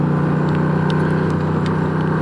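A Honda Rebel 1100 motorcycle engine in sport mode holds a gear at steady, sustained revs, a loud continuous droning hum with wind noise from riding and no talking.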